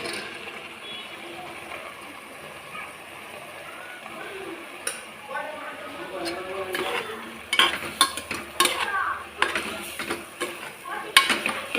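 Chicken being stirred with chicken 65 masala powder in a kitchen: soft scraping and stirring, then sharper clinks and clatters of a utensil against the vessel that grow louder and more frequent toward the end.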